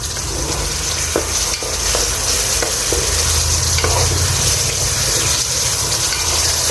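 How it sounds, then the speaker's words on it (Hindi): Beef tikka karahi fries loudly with yogurt over a medium flame, a dense steady sizzle broken by the small scrapes of a spoon stirring the pan, close up with no speech. "दही डाल के 4 मिनट इसको दोबारा से मीडियम फ्लेम पे भूनेंगे और चम्मच हिलाते रहना है"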